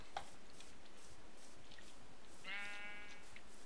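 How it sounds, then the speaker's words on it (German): A single sheep bleats in the Minecraft video game, a short wavering cry near the end after quiet background, fairly faint. "Schon wieder so ein dummes Schaf. Das mich anmäht."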